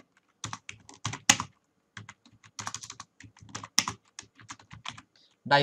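Rapid bursts of typing on a computer keyboard, clustered keystrokes with short pauses between runs, close and fairly loud with no voices.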